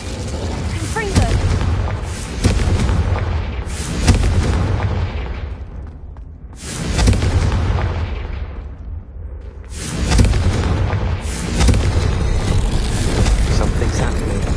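Confringo fire spells go off in Hogwarts Legacy as repeated heavy booming blasts with long rumbling tails. Loud explosive surges come in waves, with a gap near the middle, and a voice speaks over the noise.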